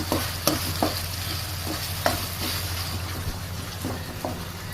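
Ginger garlic paste frying with onions in a pan, a steady close sizzle with occasional sharp scraping clicks from stirring, no talking.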